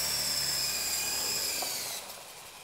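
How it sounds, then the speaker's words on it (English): A small RC helicopter's electric motor whines steadily with a high tone, then drops in pitch and loudness as the power is cut for landing, close and alone without talk. "Slowly cut the power and you're landing the helicopter."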